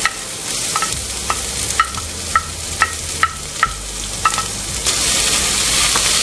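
Finely chopped garlic and half a medium onion with cumin seeds frying in a pan, steady sizzling under a regular series of spoon scrapes and taps as the mixture is stirred, close and without speech.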